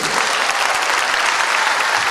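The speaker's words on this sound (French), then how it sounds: "encore un tonnerre d'applaudissements pour Sofiane" Steady, dense applause from an awards-ceremony audience honouring Sofiane, filling the room evenly at full volume with no voices breaking through.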